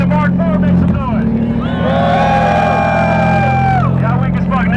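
Cheering and whooping from a crowd at a car show on a drift track, a sustained loud swell over an idling engine hum, with a voice speaking before and after.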